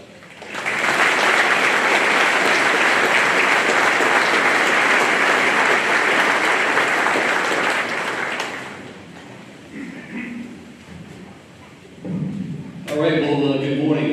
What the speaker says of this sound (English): Please give a warm round of applause for our keynote speaker, Commissioner Michael Soska